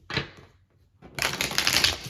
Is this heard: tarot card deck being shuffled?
yes